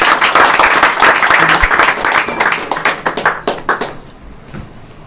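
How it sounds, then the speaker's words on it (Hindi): A crowd at a gathering honouring a 200-metre gold medal winner applauds the athlete's father, with loud, dense clapping up close that thins into scattered, separate claps toward the end. "सबसे पहला नंबर अंकल जी के लिए जोरदार ताली हो जाए।"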